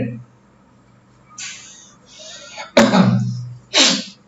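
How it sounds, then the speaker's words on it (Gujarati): A few harsh coughs from an unwell person, close and loud, in quick bursts separated by short pauses. "ખાંસી થઈ ગઈ છે, થોડી તબિયત ખરાબ છે"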